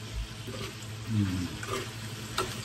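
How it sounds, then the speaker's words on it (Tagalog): Tomato frying in a pan for pakbet, a soft steady sizzle with occasional stirring scrapes, close and moderately quiet with no talking. "Naluluto rin naman yung kamatis na yan."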